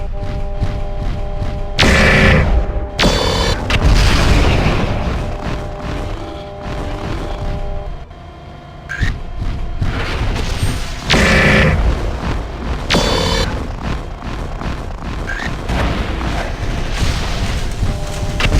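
A bridge is blown up in the video game Mechwarrior 4 on a tundra map, with a series of loud, deep booming explosions and thuds repeating over steady rumbling battle noise.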